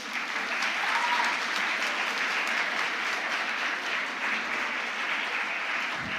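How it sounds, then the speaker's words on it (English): Audience applause at the closing valedictory ceremony of a Model UN conference, steady dense clapping from a large crowd sustained throughout, loud and continuous without a break. "Clapping is now in session."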